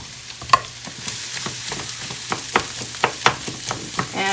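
A cup of jasmine rice goes into a hot pan for pineapple chicken fried rice, then sizzles steadily while a spoon scrapes and stirs in quick, uneven strokes, close up with no talking.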